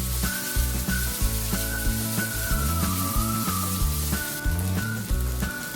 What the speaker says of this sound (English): Now saute this for 2 to 3 minutes till all that smell of garlic